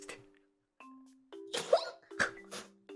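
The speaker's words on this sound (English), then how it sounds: "That's such an adorable sneeze." A small, cute sneeze sounds at close range, with a sharp burst amid a few short voiced noises and brief tonal chimes.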